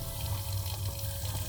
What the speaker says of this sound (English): So we're getting our water